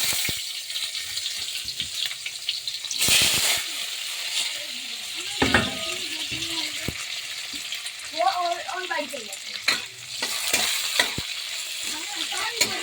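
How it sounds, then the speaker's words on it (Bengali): Onions fry in a pan with a steady, close sizzle, stirred at intervals with scraping and clinking, and a short watery splash now and then, with no talking. "এবারে পেঁয়াজটা দিয়ে দেবো।"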